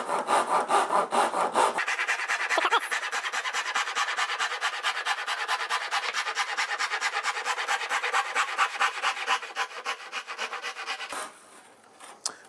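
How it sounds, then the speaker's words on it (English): A Japanese pull saw cuts through wood braced against an upright strut, producing steady, rapid rhythmic rasping strokes up close for about nine seconds before stopping. "We've got a Japanese pull saw here, and I'm just going to lay that up against the back of that upright strut"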